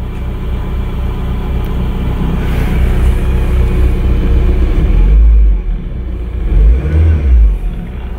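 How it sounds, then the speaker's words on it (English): A $500 Toyota MR2 that had sat unused for years idles and revs, a steady close engine rumble with a couple of heavier low surges near the end and a person talking faintly underneath. "it sounds really good for a car that's been sitting for a million years"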